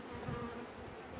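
Honey bees hum at an open hive holding brood and a queen cell, a soft, continuous droning buzz that stays faint and steady the whole time.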